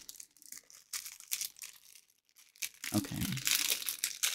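Plastic mail packaging crinkles and tears as it is opened, in short, close rustling bursts between quiet pauses, with a brief spoken word.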